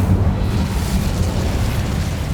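Incendio fire spell cast in Hogwarts Legacy, a loud low rumbling whoosh of flame that sustains through the short moment, heavy and close, no talk.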